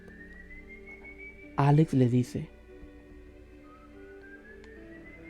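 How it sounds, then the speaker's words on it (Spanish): A man whistles an eerie, short rising tune in a few clear notes, alone against a faint hum, with a narrator speaking Spanish before it. "se escucha el silbido de algo o alguien"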